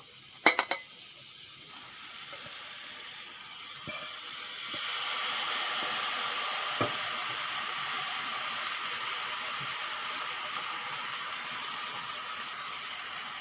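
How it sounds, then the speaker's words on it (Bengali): Bottle gourd leaves in a pan give off a steady hiss of steam and simmering, with a few sharp clinks at the start and occasional soft knocks, close and moderately loud. "লাউ পাতাগুলো এখন সিদ্ধ করে নেবো"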